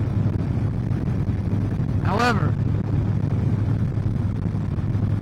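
An outboard boat engine drones steadily with a low, even rumble under wind buffeting, holding constant from start to finish while someone speaks briefly over it.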